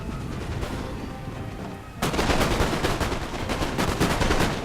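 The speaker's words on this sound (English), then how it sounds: "And here you can see now my foot have opened fire." Infantry musket volleys ring out in a Napoleon Total War battle, a dense crackle of overlapping shots that swells suddenly halfway through and keeps rattling on, loud and distant-sounding, with no talk over it.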